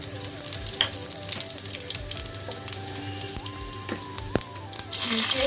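Cumin seeds sizzle in hot ghee, giving a dense, crackling fry with scattered pops and spits. It continues steadily throughout and swells to a louder hiss near the end.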